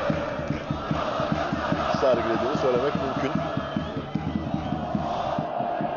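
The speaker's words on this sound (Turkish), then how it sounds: "tezahüratı devam ediyor" Galatasaray football fans chant in rhythmic unison at an open training session, the pulsing crowd chorus steady and fairly close, with someone speaking over it.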